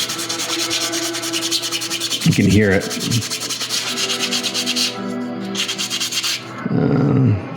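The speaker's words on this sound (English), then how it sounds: "So if I do some sanding here" Repeated rhythmic rubbing of sandpaper on a hard 3D-printed figure, close and loud, with a brief spoken remark midway and another voice near the end.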